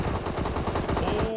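Rapid automatic gunfire from a competitive shooter video game match, dense continuous bursts filling the moment, with a shooter-game mix and no clear talk over it.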